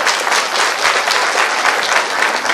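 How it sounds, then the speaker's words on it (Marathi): Steady, dense applause from an audience at a Republican Aghadi Maharashtra political gathering in Maharashtra, loud and continuous throughout with no talk over it. "जोरदार टाळ्या होऊ द्या।"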